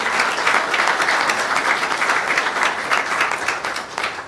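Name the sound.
audience applause for a basketball coach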